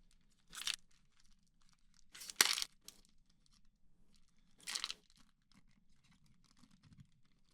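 Donruss NASCAR trading card packs are torn open in three separate bursts of crisp ripping and crinkling foil, close and fairly quiet, with a low hum between them and no talking.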